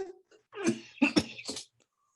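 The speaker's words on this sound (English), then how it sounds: "I got a bad cough right now" A short burst of rough coughing, two or three harsh hacks in quick succession, close and alone.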